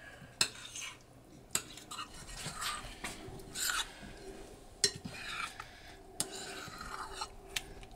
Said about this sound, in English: and stir the chicken in.